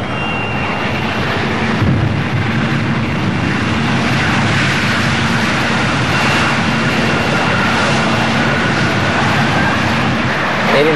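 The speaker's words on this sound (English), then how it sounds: "Thrust reverser operation. A critical phase of the landing procedure." Jet airliner engines roaring in reverse thrust during the landing rollout, a loud, steady, broadband rush with a faint whine, continuous for the whole stretch and heard alone.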